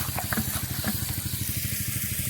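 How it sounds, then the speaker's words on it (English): A little stick stirs animal feed on a farm in quick, regular scrapes and knocks, close and steady, with a mechanical hum running underneath. "Then I just use a little random stick to kind of help"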